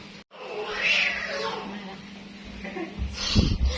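A cat meows a few times, fairly close, with a louder cry near the end, heard indoors amid low background noise and scattered movement.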